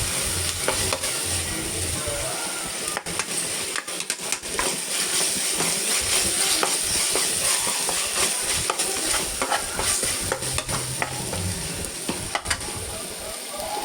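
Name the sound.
sautéing in oil for sundal biryani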